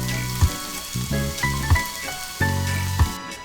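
Onions and peppers sizzle in a little olive oil in a pan for a sausage omelette, a soft frying hiss under steady tonal hum with a few dull knocks at intervals.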